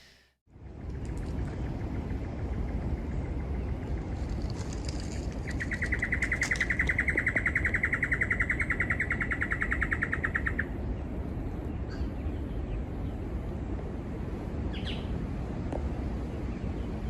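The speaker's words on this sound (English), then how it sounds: "As you can hear, the sounds of the birds became really loud." Birds chirp and call over a loud, steady rumbling background, with a bright sustained trill standing out in the middle.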